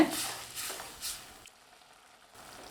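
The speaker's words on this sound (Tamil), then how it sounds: "ஒரு நூற்றி ஐம்பது எம்எல் தண்ணி விட்டுருக்கங்க நல்லா கொதித்து வரட்டும்" Water with masala bubbling in a pan for a soya chunk fry: a soft, close, hissing boil that fades to near silence partway through, then picks up faintly again.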